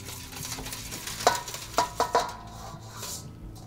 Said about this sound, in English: And just mix that down evenly.